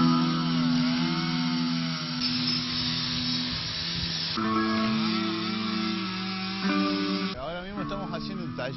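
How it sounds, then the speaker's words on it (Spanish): A chainsaw carves a wooden log at a national sculptors' gathering, its engine droning loud and steady throughout with shifts in pitch as the cut load changes, and a voice heard faintly beneath it. "estamos haciendo un tallado en madera con un tronco, directamente con una motosierra"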